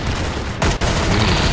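Gunfire on a shooting range, a dense burst of shots packed together, with a sharp louder crack near the middle, heard loud and close with no voices.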